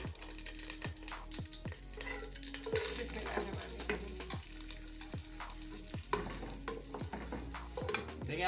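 Chopped onion frying in hot oil in a pan for a spicy sewaiyan breakfast dish, a continuous close sizzle broken by regular sharp scraping strokes of a spoon, about one each second, with no talking.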